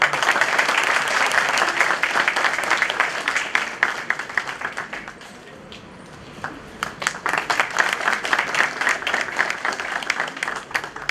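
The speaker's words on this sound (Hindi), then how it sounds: "जोरदार तालियों से" Loud applause from a large crowd fills a Bar Council of Delhi enrolment meeting. Dense, steady clapping dips briefly midway, then rises again and carries on strongly.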